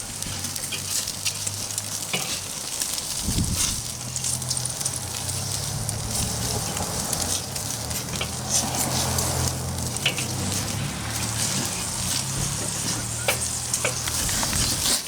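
Bacon-wrapped rosemary chicken crisping in a hot pan, giving a loud, dense, continuous sizzle and spatter that holds steady for the whole stretch, with occasional faint knocks of a utensil.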